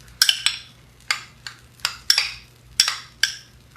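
Lime and salt salsa stirred in a bowl, about nine distinct clinking scrapes of a utensil against the bowl in an uneven rhythm, close and clear with no voices.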